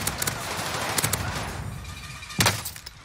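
Video game firefight with bursts of gunfire, a cluster of sharp shots early on, another around the middle and a loud close burst near the end, over a steady busy rumble of battle ambience.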